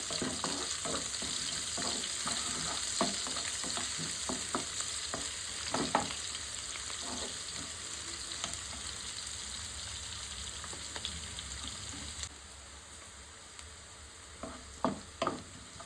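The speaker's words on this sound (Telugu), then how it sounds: "ఒక ఉల్లిగడ్డ, ఇవి లైట్గా గోల్డెన్ కలర్ వచ్చే వరకు ఫ్రై చేసుకోవాలి." Onion slices frying in hot oil until light golden, giving a steady close sizzle with repeated clicks and scrapes of stirring throughout, no talking.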